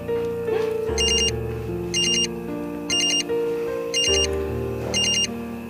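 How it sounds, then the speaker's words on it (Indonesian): A telephone rings in about five evenly spaced bright bursts, roughly a second apart, over a steady bed of soft background music, with no one talking. "Itu telepon dari siapa?"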